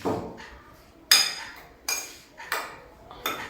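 A spoon clinks against a container while ingredients are mixed, with four or five sharp, close taps spaced irregularly and quiet scraping between them.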